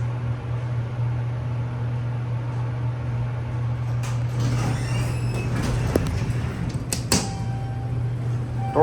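A holeless hydraulic elevator door at Terminal A of George Bush IAH airport slides shut, with a soft scraping rumble and a thump over a steady low machine hum. A few faint clicks follow.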